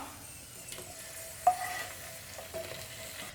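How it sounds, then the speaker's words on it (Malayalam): Cashews and raisins are stirred into a pot of broken wheat payasam with the flame off, giving soft scraping and one sharp clink against the vessel, quiet and close, with no one talking. "ഇനി നമുക്ക് കാഷ്നറ്റും കിസ്മിസും ഈ പായസത്തിലേക്ക് ചേർത്ത് കൊടുക്കാം"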